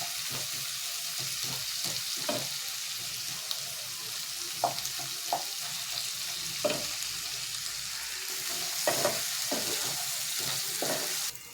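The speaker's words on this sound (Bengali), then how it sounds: "একটু কষবো মশলাটা" A spice paste (masala) being fried in a pan for an egg-and-lentil-fritter curry gives a steady hiss of sizzling oil, with soft stirring scrapes and clinks spaced through it at close range.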